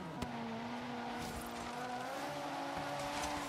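A Ferrari 250 GTO in the racing game Forza Horizon 3 holds a steady engine note through a corner, with a sharp click near the start and faint tire scrub underneath.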